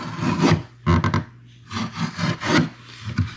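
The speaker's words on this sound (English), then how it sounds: "So I hold it like this, and I scribe down with my knife." A utility knife scribes through the paper facing of a drywall patch, making a series of short, close rasping scrapes in an irregular rhythm, with no speech.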